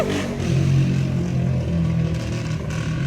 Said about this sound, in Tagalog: Nakakainis yung mga motor, yung mga tambucho nila, ganun, no? Maingay.